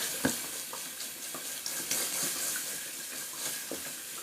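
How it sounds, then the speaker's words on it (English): A shaving brush with a 30mm knot being rinsed under running tap water, a steady close splashing hiss with small irregular spatters and knocks, no voices. "And I will also rinse out my brush real quick."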